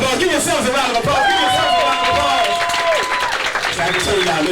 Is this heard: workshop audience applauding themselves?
yes